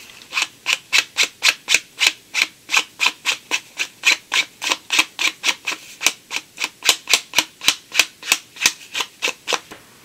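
Rapid rhythmic rubbing strokes along paper edges to darken them for a mixed media birthday box craft, about three scratchy sweeps per second, steady and close with no voices.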